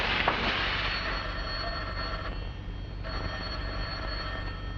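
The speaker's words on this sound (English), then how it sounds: "Answer that phone." A telephone rings in a scene from a classic black-and-white film, a harsh, continuous bell-like ring over a hissy, noisy soundtrack, with no talk.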